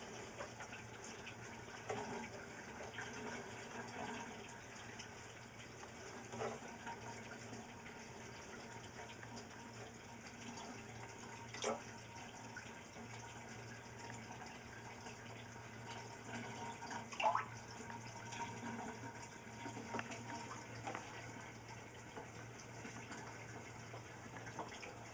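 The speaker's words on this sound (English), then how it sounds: "Trying to siphon the debris off the top." Siphon drawing debris and water out of an aquarium housing fish fry, a steady low gurgling wash that runs continuously throughout with small bubbling surges.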